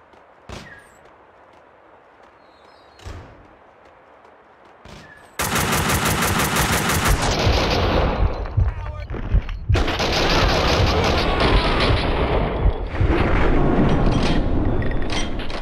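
Gunfire in the Max Payne 2 video game: a few isolated sharp shots over quiet ambience, then a long, loud burst of rapid automatic fire with heavy overlapping blasts and brief pauses, close and dominant.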